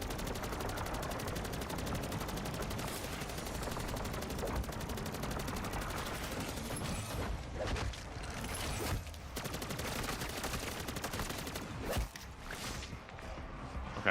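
Sustained gunfire from a squad fending off a Frenzied Guard in Modern Warfare Zombies, a dense, continuous barrage of rapid shots with brief lulls near the end.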